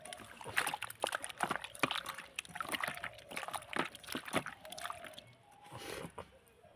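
Soybean chunks for a Bengali-style soybean and potato curry are washed by hand in water, giving repeated close sloshing and splashing strokes in an uneven rhythm.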